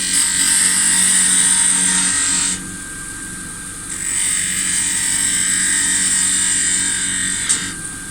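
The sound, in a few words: woodturning a bead with a spindle gouge on a lathe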